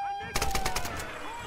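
A short burst of rapid machine gun fire in the Tomb Raider video game, about half a second of quick repeated shots over a steady background tone.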